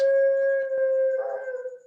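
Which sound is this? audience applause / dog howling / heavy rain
dog howling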